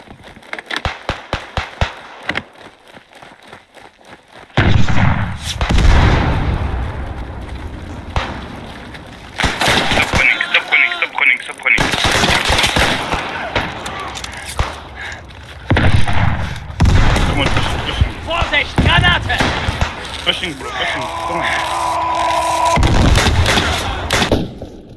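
Bursts of gunfire and heavy explosive booms from the World War I shooter Beyond the Wire, with a grenade blast among them, coming in loud clustered volleys separated by quieter stretches of scattered shots.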